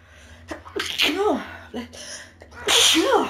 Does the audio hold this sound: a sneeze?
yes